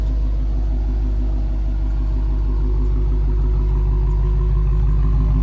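A Dodge Charger Hellcat Widebody V8 engine idles with a deep, steady, throbbing rumble, close and loud, unchanging throughout with no talking.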